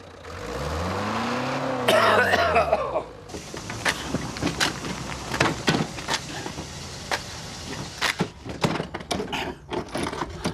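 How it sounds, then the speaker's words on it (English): A car engine is revved gently, rising in pitch and settling back over about two seconds, followed by a series of irregular clunks and knocks. "Just rev it again, but gently."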